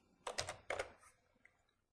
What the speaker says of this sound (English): Now I need to type my password.